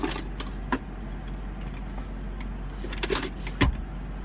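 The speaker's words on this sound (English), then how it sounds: "As you can see as I dig through all my crap." Items are shuffled and rummaged through inside a 2014 Toyota Tacoma TRD Offroad, giving scattered soft clunks and rustles with a few sharper knocks over a low steady hum.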